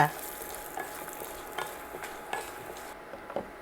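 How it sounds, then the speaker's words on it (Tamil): Urad dal and garlic sautéing in oil in a pan give a steady close sizzle, broken by soft stirring scrapes and small pops, with no talking. "நல்லா எண்ணெயில் தானே வதக்குறோம்"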